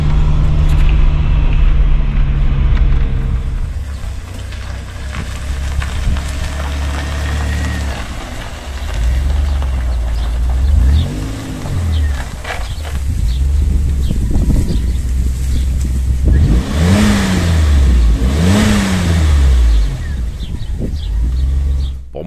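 A Maserati car engine runs steadily at a low, even hum, with a few rising revs as the car drives along, wind noise in the background.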